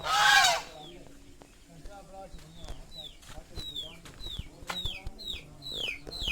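Chicks and fowl in a village yard, a series of high, repeated chirps and peeps close by with some clucking and scuffling underneath, after a brief loud burst at the start.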